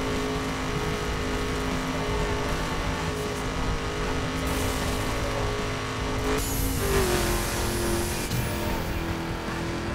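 Car racing along a road in The Crew video game, a steady loud engine drone throughout with a sharp shift around the midpoint as revs and tire noise change, no talking.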